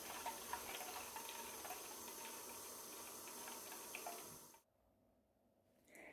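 Steady jet of water streaming from a tap in a hydrodynamic levitation demonstration, a loud continuous rushing hiss for about four and a half seconds that then cuts off abruptly into near silence.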